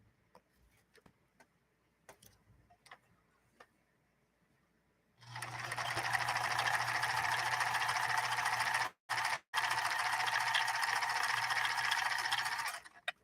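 Japanese Kenmore sewing machine stitching a 3-point zigzag, starting after a few faint clicks and knocks, then running steadily with a dense whirring rattle for several seconds, pausing twice briefly before continuing.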